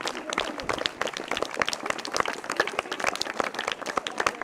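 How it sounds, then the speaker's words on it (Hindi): Audience applause at a community quiz session in a Buddhist vihara, dense scattered hand claps forming a steady burst, with voices and crowd noise mixed in throughout. "जोरदार तालियां"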